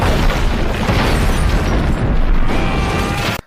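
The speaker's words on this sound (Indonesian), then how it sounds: "Jimmy langsung meledakkan tempat itu." A loud, sustained explosion from a Rambo film blast scene, a dense rumbling roar filling the whole moment before cutting off abruptly.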